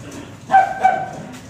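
A couple of short, high dog yips close by over a soft background hum.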